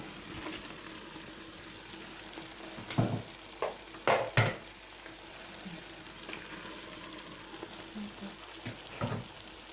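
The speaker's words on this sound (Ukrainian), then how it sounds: "Тепер минут 15-20, певно, буде тушитися морква з цибулі." Carrot and onion fry in a pan as a quiet, steady sizzle, broken by a few louder clinks and scrapes of stirring, with no one talking.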